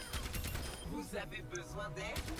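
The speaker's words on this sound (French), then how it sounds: "Son arme principale est une mitrailleuse qui propulse des munitions qui infligent pas mal de dégâts." Rapid machine-gun fire from the tank hero Orisa in the video game Overwatch 2, a dense continuous stream of shots under a voice talking throughout.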